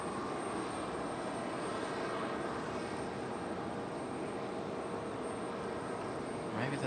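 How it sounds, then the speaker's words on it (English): A steady, distant roar of a Frontier airliner's jet engine spools up behind the microphone at Raleigh-Durham International Airport, broad and constant, with faint background activity and no clear speech. "Sounds like we got a Frontier starting up behind us."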